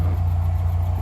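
Restored 1967 Morris Minor Traveller idling after a start, a steady low mechanical thrum close by with no voices.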